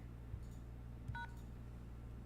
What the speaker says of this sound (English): press the pound sign to send your SMS notification